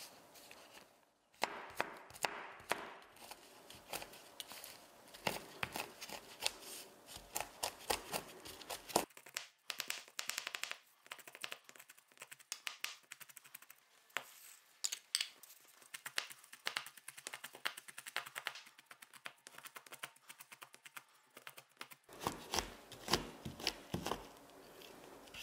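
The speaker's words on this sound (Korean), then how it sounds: "호두를 다지는데 이 호두를 그냥 맨 도마 위에서 하시면은 기름기가 있고 튀어나가고" Walnuts are chopped with a knife on paper laid over a cutting board, giving quick, uneven rounds of soft crisp taps and crunches, near and fairly quiet, with brief pauses between bursts.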